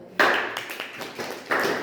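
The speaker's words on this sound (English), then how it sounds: "Clapping कर दो." A class of students clapping briefly in a classroom, a few short bursts of claps at the start, middle and end, with no talk over them.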